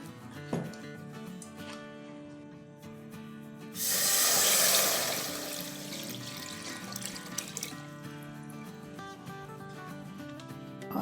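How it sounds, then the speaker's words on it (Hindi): Chicken stock, about four cups, poured into a pan of cooking chillies, a broad splashing gush lasting a couple of seconds before settling into a softer sizzle and trickle, close by. "तब इसमें हम ये स्टॉक डाल देंगे"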